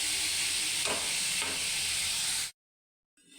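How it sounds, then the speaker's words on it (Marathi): Onion fries in a pan, a dense, close hiss with a couple of stirring swishes that cuts off abruptly after about two and a half seconds into silence, with faint noise returning at the end. "आता मी हा कांदा तळायला घातला आहे"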